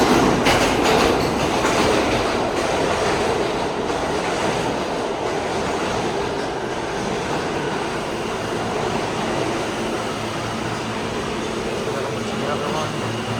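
A subway train at Canal Street Station rumbles and rattles in steadily, clattering wheels and a loud roar filling the space, with faint voices in the background.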